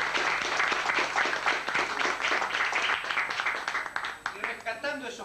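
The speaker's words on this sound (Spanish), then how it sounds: "yo le pediría un fuerte aplauso." An audience at a tango performance applauding, a dense, continuous wash of clapping heard from within the crowd, with voices mixed in beneath it.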